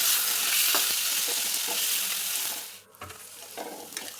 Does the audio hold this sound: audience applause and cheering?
no